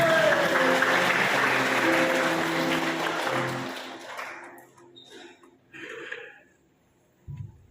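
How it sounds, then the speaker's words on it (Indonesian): A church congregation breaks into applause for Christ during a Sunday service, loud dense clapping that swells for several seconds, then fades out, leaving scattered faint sounds and a brief low thump near the end. "kita tepuk tangan yang meriah bagi Kristus"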